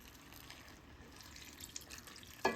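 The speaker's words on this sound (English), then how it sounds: "we're just gonna add some water to this" Water pours into a pan of mango and jackfruit curry, a quiet steady trickle close by that ends with a brief louder splash or clatter.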